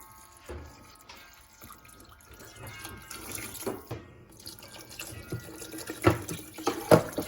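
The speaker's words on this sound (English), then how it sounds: "So now we're going to cover the vegetables with water." Water pours from a tap into a pot of chopped soup vegetables for minestrone. Splashes and drips come unevenly and grow louder toward the end, close and without speech.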